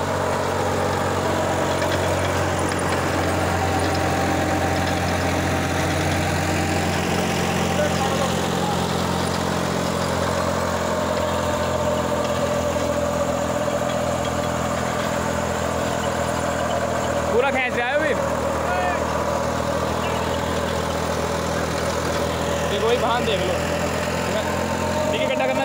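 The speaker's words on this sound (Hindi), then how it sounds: "इतना दम पूरा लगा रखा है ट्रैक्टर में।" A Swaraj 733 FE 35 hp tractor runs at 1800 RPM pulling a 7-foot rotavator through a field, giving a steady, continuous loud engine drone throughout, with someone talking over it now and then.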